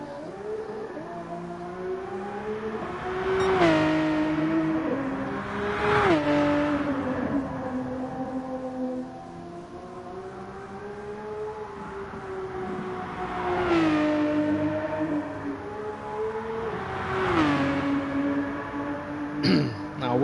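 Mercedes GT3 race car engine in a racing video game, revving high with repeated rising pitch sweeps and sharp drops at gear changes, loud and steady throughout with no talk over it.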